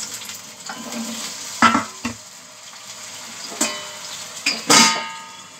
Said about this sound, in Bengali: কচুগুলোকে ভেজে নেব।